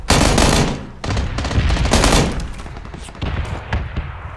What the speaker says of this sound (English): Dude, one more shot, he's dead.